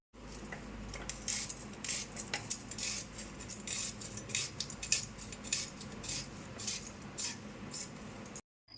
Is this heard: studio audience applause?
no